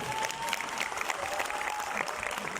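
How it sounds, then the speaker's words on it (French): An audience at a French film preview premiere applauds steadily and fairly evenly for a few seconds, a dense wash of clapping with a faint tone running beneath it. "On les applaudit bien fort"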